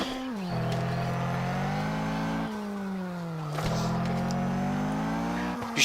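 An engine in a retro racing video game revs steadily, dips in pitch as the car skids and slides, then climbs again, loud and continuous with a brief tire squeal.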